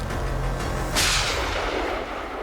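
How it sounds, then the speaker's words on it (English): Shotgun firing a single non-lethal rubber slug at a bear outdoors, one loud sharp boom that fades into a short echoing decay, with no talking. "shot him with a non-lethal round just to give him that fear of humans"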